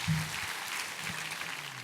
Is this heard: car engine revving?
no